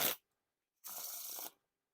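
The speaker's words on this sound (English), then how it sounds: "Now for the Riffle Shuffle or Bridge Shuffle" A brief crisp flick, then after a pause a rapid half-second burr of playing cards riffling together, close and clean in a quiet room.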